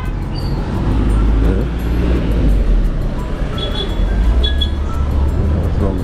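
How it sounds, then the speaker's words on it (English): Dense traffic at a bus and matatu park on Ngara Park Road in Nairobi, a continuous loud rumble of engines and road noise with a few faint high squeals, and voices murmuring within it. "This is also a bus park or matatu park."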